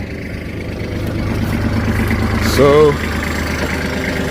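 A tractor engine idles with a steady low chugging rumble, while someone speaks briefly over it near the middle.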